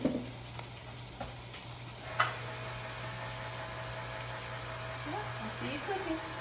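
Baked beans poured over sausage in a pan, giving a low, soft sizzle beneath a steady hum, with a few light clinks of a utensil and a faint voice partway through.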